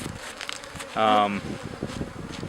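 Honey bees buzz around a split beehive outdoors, with a louder, close buzzing pass lasting about half a second over a continuous background hum and faint rustling.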